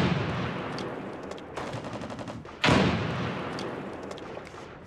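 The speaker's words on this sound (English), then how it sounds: "Oh man, that's not an RPK, it's an M16." M16 rifle fire in a video game rattles out in rapid, close bursts, a quick run of sharp shots followed by a louder crack, each burst tailing off into echo.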